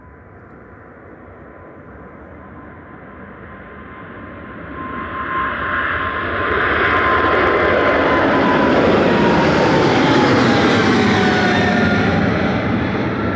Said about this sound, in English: This is Qatar Flight 28 to Doha A7BAS, a 777-300ER departing.